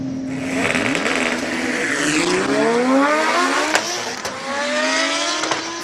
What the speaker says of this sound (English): Audi S1, purpose-built for a hill climb.